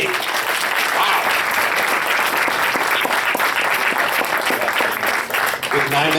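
Sustained audience applause fills a voice acting panel at Midwest Furfest 2015, a dense steady wash of clapping from a large crowd lasting throughout, with a few voices mixed in.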